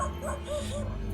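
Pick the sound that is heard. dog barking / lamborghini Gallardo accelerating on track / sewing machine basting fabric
dog barking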